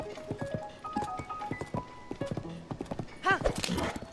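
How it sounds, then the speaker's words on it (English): Horse hooves clip-clop at a steady galloping rhythm in Mario Kart World on Nintendo Switch 2, with game music and effects mixed in and a voice talking over it. "Let's make Horsey run faster."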